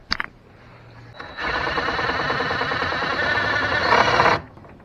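A power tool whirs steadily for about three seconds as a bolt fails to thread into a truck bumper on an 8.1 Silverado HD, a harsh, sustained grinding buzz after a brief click, with no speech.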